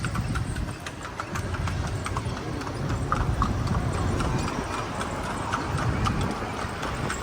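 Horse hooves clip-clop steadily as the animal pulls a cart along a seaside boulevard, close and continuous over a low rumble of nearby engines, with brief voices in the background.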